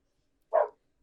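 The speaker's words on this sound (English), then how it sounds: "Sorry, my dogs are going off." A single short bark from dogs going off in another room, faint and muffled, standing alone in near silence.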